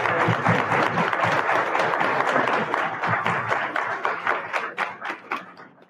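An indoor audience at a Longmont Startup Week trivia event claps in a dense burst of applause that holds steady, then thins into scattered individual claps as it fades.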